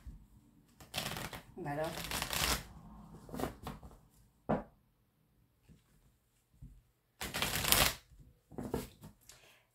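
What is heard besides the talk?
tarot oracle cards being shuffled and cut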